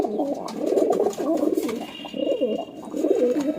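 A pair of low flyer pigeons cooing at close range, soft throaty rolling coos repeating in overlapping bursts, with a faint thin chirp in the background.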